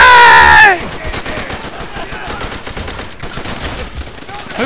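Gunfire in Call of Duty: World at War, with a loud burst at the start followed by steady, dense game battle noise of shots and explosions that runs throughout.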